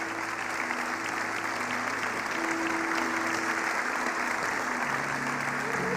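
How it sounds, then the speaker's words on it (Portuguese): A church congregation applauds the Lord after a sermon, a steady, even wash of many hands clapping held for several seconds at moderate level, with only a faint voice underneath. "Alguém pode dar um aplauso ao Senhor por esta palavra que Ele nos direciona hoje de maneira especial?"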